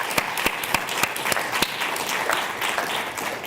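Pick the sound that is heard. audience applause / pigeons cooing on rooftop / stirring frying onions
audience applause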